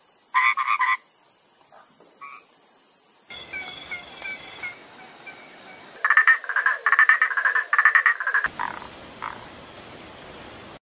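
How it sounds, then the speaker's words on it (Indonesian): Bursts of loud, rapid frog croaking come in pulsing trains, separated by quieter stretches with a buzzing insect-like drone. "katak."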